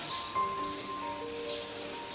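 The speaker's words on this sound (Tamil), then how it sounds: "பாருங்கள், செம்ம மழை." Heavy morning rain patters steadily on surfaces close by, a soft, even hiss of drops with no voices present.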